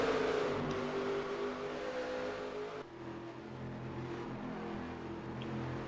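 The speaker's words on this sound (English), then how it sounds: "as you can hear, the cars are so much quieter as they're trying to save what tires" Race cars lapping at Phoenix Raceway during a NASCAR-style Cup race, a steady engine drone with a distant whine fading as one car moves away, running fairly quiet while drivers save tires.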